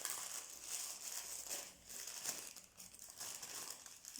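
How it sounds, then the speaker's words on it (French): Crinkling and crumpling of wrapping paper as a Christmas gift package is unwrapped, a steady rustle with a few sharper crackles, close and moderately loud, with no voice over it. "on va ouvrir ce premier paquet"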